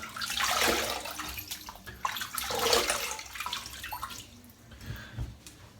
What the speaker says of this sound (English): I'm going to wet it again with some warmer water